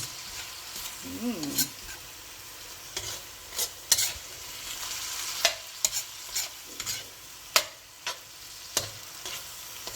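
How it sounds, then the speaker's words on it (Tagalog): Garlic sautés in a pan with a steady low sizzle, broken by repeated scraping and stirring clatters of a utensil against the pan, fairly close and without talk. "We're just gonna saute the garlic."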